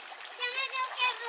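Water splashes and sloshes in an outdoor swimming pool as people jump in to make waves, with children's voices shouting and talking over the churning water.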